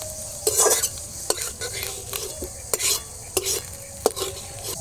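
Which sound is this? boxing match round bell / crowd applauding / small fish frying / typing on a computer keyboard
small fish frying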